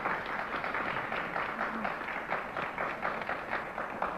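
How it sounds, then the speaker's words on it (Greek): A studio audience on a Greek TV music show keeps up steady, dense applause, a continuous wash of many hands clapping at moderate volume with no talk over it. "Χειροκροτάμε, γιατί περνάμε υπέροχα"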